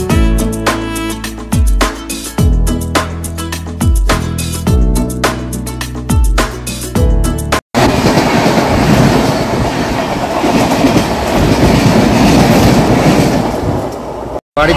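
Music gives way to the loud, steady rumble and rattle of the North East Express (12505) running from New Jalpaiguri toward Anand Vihar, wheels clattering continuously.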